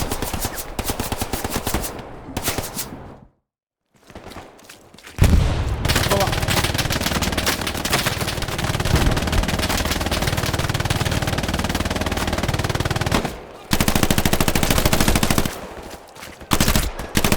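Rapid machine gun bursts and gunfire in the World War II shooter Hell Let Loose, loud and sustained across most of the stretch with a brief quiet gap early on, while a player's voice talks over the combat.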